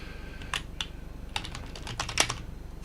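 Fast, uneven bursts of typing on a computer keyboard, sharp close clicks in short clusters over a low steady hum, with no one talking.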